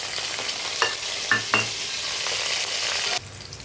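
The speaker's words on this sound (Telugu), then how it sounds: "అల్లం వెల్లుల్లి పేస్ట్ వేగిపోయిందండి" Ginger garlic paste frying with spices in a pan for gongura chicken, a steady close sizzle with a few sharp utensil scrapes and taps, cutting to a quieter sizzle near the end.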